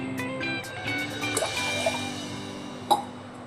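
Water is poured into a pot for cooking a moong dal and jaggery payasam, a soft, close trickle and fill that ends in a small splash, with a faint background hum and no talk.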